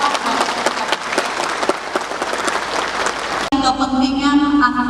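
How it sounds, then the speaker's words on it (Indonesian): An audience at a debate of candidates for regent and vice regent of Lanny Jaya applauds loudly and densely for about three and a half seconds, then the clapping cuts off abruptly and music takes over. "sekali lagi kita beri aplaus untuk ketiga pasangan calon bupati"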